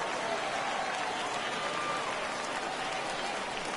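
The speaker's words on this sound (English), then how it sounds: "that will get a cheer from the home side here tonight." Home crowd at a minor-league baseball game between the Amarillo Sod Poodles and Midland Rockhounds cheers and applauds in a steady, broad wash of clapping and voices that holds for the whole stretch.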